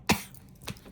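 A single short cough from a man, close and fairly loud, followed about half a second later by a second, softer cough.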